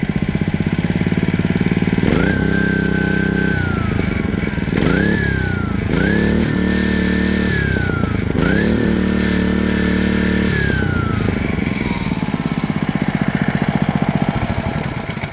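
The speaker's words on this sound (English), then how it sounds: "it works as a standard outboard motor. But it has an air-cooled engine." Homemade outboard motor built around an air-cooled engine turning a little under 4,000 RPM, running steadily close up with repeated rising revs and whining bursts over a constant loud drone.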